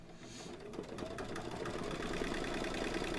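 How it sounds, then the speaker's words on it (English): An embroidery machine stitches down a quilt block for a haunted house design, with a steady, fast mechanical rattle that builds slightly and then runs continuously throughout, up close. "Let's go back to the machine and we're going to stitch this down"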